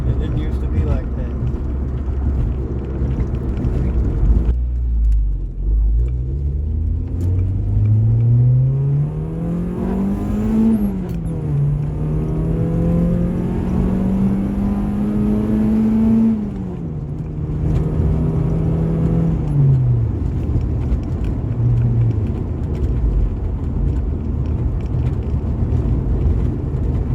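A Honda Accord with a swapped H23 VTEC engine cruises at about 50 mph in fifth gear near 2,000 rpm, its steady droning hum rising and falling slightly in pitch inside the cabin.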